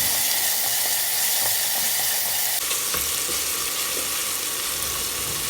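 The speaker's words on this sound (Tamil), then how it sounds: "தக்காளியை போட்டுட்டு இது கூட தேவையான அளவு உப்பு போட்டுட்டு அதையும் நல்லா வதக்கி விட்டுக்கோங்க." Chopped tomatoes and onion with salt sauté in a pan for a village-style fresh field bean masala stir-fry, giving a loud, continuous close-up sizzle with a steady hiss and no talking.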